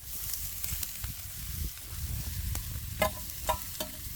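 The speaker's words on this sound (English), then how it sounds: "Now we can add the mushrooms and the spring onion." Mushrooms and spring onion frying in a pan outdoors, with a steady close sizzle and a few sharp stirring scrapes toward the end.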